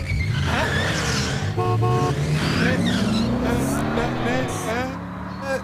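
A cartoon car speeds off in an animated French kids' show, its engine note rising steadily over several seconds with a brief tire squeal, while people talk over it.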